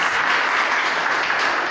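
Steady, full applause from a church congregation, many hands clapping in a dense, continuous roar with no pauses.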